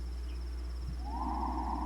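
A bird calls in the forest of the Myst III Exile game. It is a single drawn-out hooting cry rising over a low constant ambient hum, fairly faint and alone.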